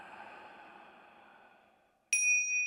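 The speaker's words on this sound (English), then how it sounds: "let's just mark the start with the sound of the chimes" A soft fading ring trails off into near silence, then chimes are struck once to open a yoga practice, giving a bright, sustained metallic tone that rings on clearly.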